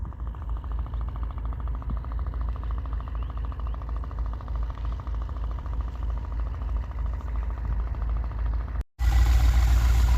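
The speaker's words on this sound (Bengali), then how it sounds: "ডাকাতিয়া নদী দিয়ে সারি সারি ট্রলার যাচ্ছে" Sand-carrying trawler boats chug along the Dakatia river in Chandpur, a steady low rumbling engine drone with a rapid rhythmic thump, loud and close, briefly cut off near the end before resuming.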